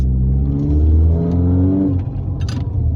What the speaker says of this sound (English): we'll just cut to some pulls so you can hear the car anyway